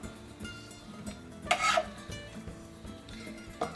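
A knife slicing an onion into thin slivers on a cutting board, repeated soft taps and scrapes at a steady pace, with one louder scraping stroke in the middle.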